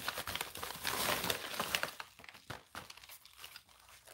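A small paper envelope handled and opened up close, with loud crinkling and rustling paper at first that settles into quieter, scattered crackles, and no talking.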